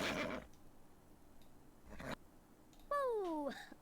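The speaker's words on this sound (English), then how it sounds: "A horse! The cowboy's horse" In a ScummVM adventure game, a cowboy's horse gives one short descending whinny near the end, after a few brief clicks and rustles in a quiet scene.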